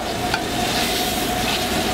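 Goose breast skin sears in a hot pan, giving a loud, continuous sizzle with crackling close by and no voices.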